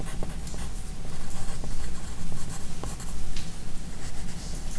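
Pen or marker writing notes during a physics lecture on velocity graphs, a steady scratchy scribbling with small taps, close and continuous without talk.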